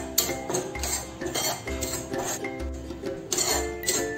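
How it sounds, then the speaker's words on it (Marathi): A spoon scrapes and clinks against a pan in repeated strokes while gram flour is dry-roasted over medium heat, the stirring close and fairly quiet with no voices. "बेसन पीठ जे आहे ते आपल्याला मीडियम हीटवर भाजून घ्यायचं आहे"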